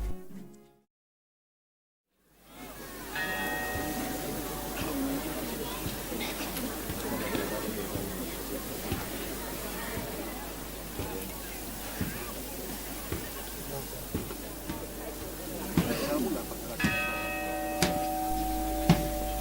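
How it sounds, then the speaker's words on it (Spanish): Muffled church bell carried by several men through darkened streets during a silent night Holy Week procession, faint tolls sounding over a steady murmur of street ambience, with a few brighter metallic strikes near the end. "el sonido ahogado de una campana, que portada por varios hombres cruzan en silencio por las apagadas calles del Espíritu Santo"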